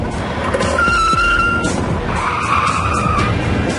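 Car braking hard and skidding on a test track, a loud close tire squeal rising and holding over engine noise for a few seconds.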